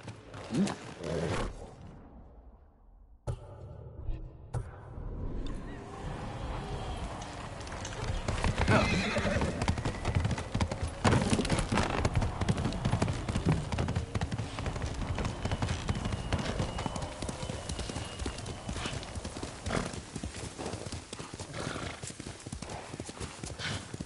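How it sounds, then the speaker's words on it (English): A horse's hooves clip-clop steadily while the horse neighs, after a brief quiet start, with people talking over the sound throughout. "horse!"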